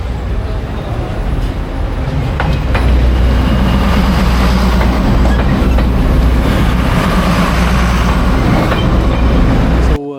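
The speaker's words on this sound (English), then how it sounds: "Train will pass." A train rolls past on rails at Shifen, Taiwan, loud and close for about ten seconds, with a steady rumbling roar, wheel clatter and faint squeal, then cuts off abruptly.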